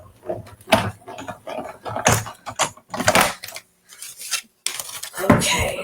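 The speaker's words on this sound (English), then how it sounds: "I have got my embossing folder in between my 2 cutting plates, and I'm going to put it through my machine." Embossing folder sandwiched between two cutting plates rolls through a manual die-cutting machine while making a card, giving repeated loud clunks and grinding bursts in an irregular rhythm, close and alone.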